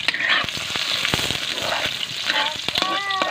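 Ginger sizzling and crackling in hot rendered beef fat while being stirred for pinapaitan, a close, loud, continuous fry with scattered pops and utensil scrapes.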